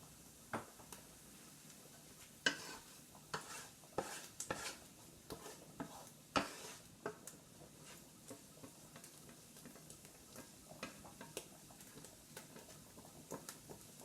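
Onions, mushrooms and garlic sizzle quietly in a pan while a utensil stirs them, adding scattered light taps and scrapes against the metal, with no talking.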